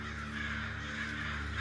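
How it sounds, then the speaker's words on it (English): Crows cawing as a story sound effect, a dense, continuous chorus of harsh caws from a large flock, close and steady without pause. "They were all laughing, chirping at him, hobbling towards him."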